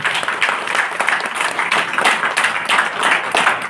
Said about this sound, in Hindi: एक बार जोरदार से ताली बजाएं